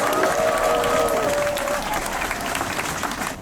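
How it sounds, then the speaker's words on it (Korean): Audience applause at an outdoor performance-rally for local residents, a brief burst of clapping that fades over a few seconds, with a voice faintly audible early on. "주민분들께 큰 박수 주시기 바랍니다"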